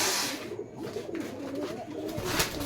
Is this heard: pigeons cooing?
yes